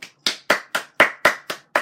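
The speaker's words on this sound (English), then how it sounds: "I'm clapping right now" Eight sharp, even hand claps in quick succession, close and loud, about four per second with silence between them.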